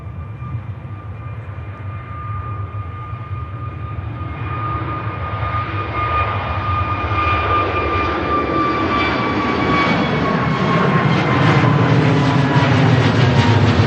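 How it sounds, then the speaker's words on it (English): Aer Lingus airliner at Manchester Airport taking off and climbing away, its jet engines building to a loud, steady roar with rising whine tones that grows stronger and nearer throughout, alone without talk. "Gear goes up, positive climb rate on the Aer Lingus"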